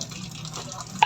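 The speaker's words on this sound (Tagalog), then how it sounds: "lalagyan natin ng tubig para may sabaw tayo." Water poured into a cooking pot of hot oil to make broth for a sardine noodle soup, a soft steady liquid wash ending in a brief splash.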